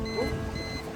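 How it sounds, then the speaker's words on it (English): Boat navigation boundary alarm sounding aboard a vessel, a faint steady electronic beeping tone over low engine and water rumble. "That's the alarm that goes off when you're entering"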